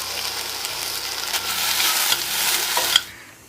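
Finely chopped garlic and tomato frying and being stirred in a pan, a loud sizzle with scraping strokes that swells, then quickly drops away near the end.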